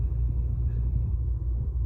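A 2017 Bentley Continental GT Speed raises its air suspension to the high ride-height setting, giving a faint, low, steady rumbling hum with a slight throb in a quiet cabin.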